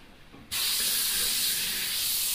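Iwata Eclipse HP-BCS bottom-feed airbrush with a 0.5 mm nozzle sprays with a loud, steady hiss that starts abruptly after a brief quiet moment and holds evenly to the end.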